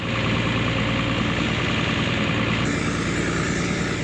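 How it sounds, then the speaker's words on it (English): A tractor engine runs at a steady idle on a farm during a hay barn build, a loud, constant low rumble with vibration and no talking. "Do you think your tractor's gonna start?"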